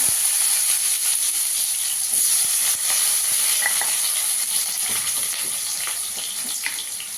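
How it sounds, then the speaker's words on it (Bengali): Cut potatoes frying in oil in a pan, a steady close hiss of sizzling with faint stirring scrapes running throughout. "এখানে আমি দুটো আলু কেটে নিয়েছি, আলুটাকে আগে একটু ভেজে নেব।"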